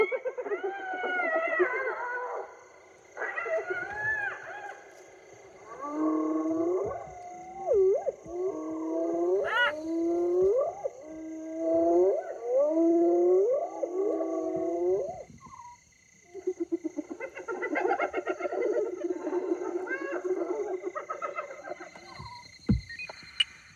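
Elephants calling in a Zimbabwe savanna, with wavering tonal rumbles and trumpet-like cries repeated over about twenty seconds, close and fairly loud, with brief pauses and a second burst near the end.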